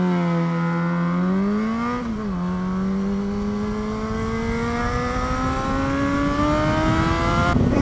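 A Yamaha XJ6 motorcycle with a Black Widow side-mount exhaust rides along, its engine note climbing steadily through the revs with a brief dip at a gear change, a loud, close, raspy drone throughout.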